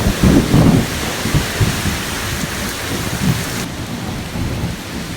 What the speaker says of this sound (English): we've got some pretty significant storms coming in here